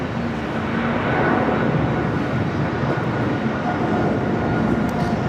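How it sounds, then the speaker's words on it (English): A KLM Boeing 777 airliner in KLM Asia livery at Los Angeles airport gives off a steady, loud broadband jet roar that holds evenly across the whole stretch with no talk over it. "It's KLM at 777 wearing the KLM Asia livery"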